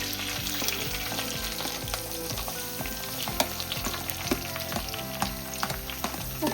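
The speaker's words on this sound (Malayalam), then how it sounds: "സവാള നല്ലോണം വഴറ്റണം" Onions sauté in hot coconut oil with curry leaves and chillies, a steady close sizzle and crackle with occasional stirring scrapes and taps, filling the whole stretch without voices.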